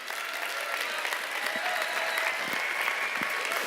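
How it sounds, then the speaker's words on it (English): An audience at a conference session applauds steadily throughout, a dense continuous wash of clapping from a large indoor crowd at even volume, with no voices standing out. "one more round of applause"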